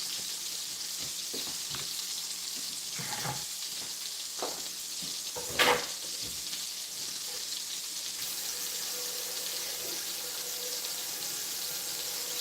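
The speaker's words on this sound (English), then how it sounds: "that sausage sounds good" Sausage sizzles and crackles steadily in a frying pan while breakfast cooks, a continuous close hiss with a few faint clinks and one brief louder scrape partway through, and no talking.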